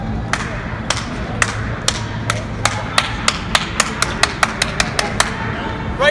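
Athletes' feet strike the ground in a quickening rhythmic series during a track and field camp ladder drill indoors, about fifteen sharp taps accelerating over a noisy, reverberant crowd background.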